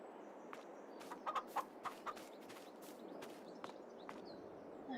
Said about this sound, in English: The chickens are doing okay.